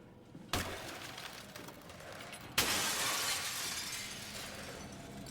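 Glass shatters twice in the horror video game Soma: a sharp crash, then a second, bigger burst of breaking glass that leaves a long bright crackling and tinkling tail, loud and close, with no talking.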